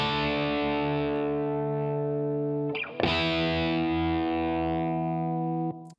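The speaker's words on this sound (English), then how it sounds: "electric guitar here." Electric guitar strumming sustained distorted chords with chorus-like effects in a music production track. Two long ringing chords with a short strum change between them, loud and alone.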